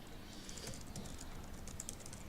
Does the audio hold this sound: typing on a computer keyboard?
yes